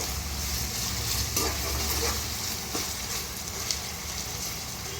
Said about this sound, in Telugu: టమాటా ముక్కలు చక్కగా మగ్గినాయి కదండి నూనెలో